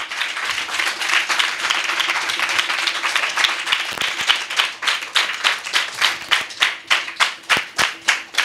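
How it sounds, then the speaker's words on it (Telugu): A church congregation applauds together during a Sunday sermon, starting as a dense wash of clapping and settling into a few loud, rhythmic unified claps near the end, with no speech over it. "just give big claps to the lord యెషూవా"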